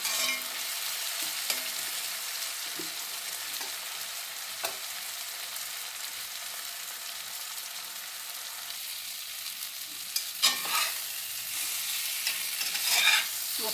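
Masala yam (senai kizhangu) pieces frying and being stirred in a pan, a steady soft sizzle with occasional scraping and clinks of the spoon, louder stirring bursts near the end.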